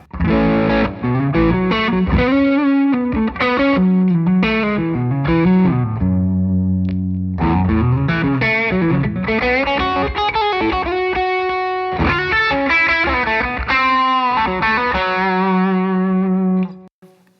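Gibson Les Paul electric guitar with a creamy, bluesy overdriven gain tone, with both tone knobs turned down to between 2 and 3, playing a sustained run of bluesy licks and held notes, loud and close with no talking.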